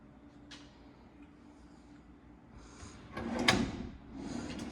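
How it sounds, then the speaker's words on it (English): Household drawers opened and shut during a walk-through of a Woodlawn home interior, a few soft wooden slides and knocks building to a louder close-range thump near the end. "I did look at all the drawers. They seem to be working okay."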